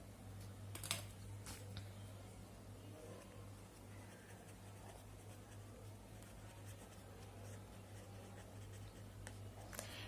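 Pen or marker writing out a math problem during a Hindi operations research lecture, a faint steady scratching with brief louder strokes over a constant low electrical hum, no talking.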